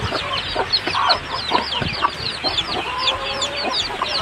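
Chicks one to two weeks old cluck and peep in quick, overlapping bursts as they eat on a farm, a steady busy chorus with scattered pecking clicks close by.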